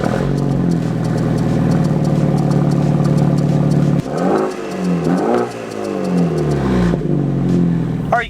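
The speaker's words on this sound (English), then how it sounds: "this is a cold start on a 2013 F30 BMW 328i with an AWE tuning exhaust" A 2013 BMW 328i F30 with an AWE Tuning exhaust cold-starts: a loud, steady high-idle drone for four seconds, then the engine rises and falls through a couple of revs before settling back to a firm idle, with no talking.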